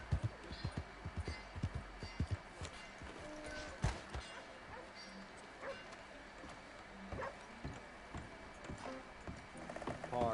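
Horse hooves clip-clop along at a steady gait in Red Dead Redemption 2, a run of close, rhythmic thuds over the whole stretch with faint game ambience beneath.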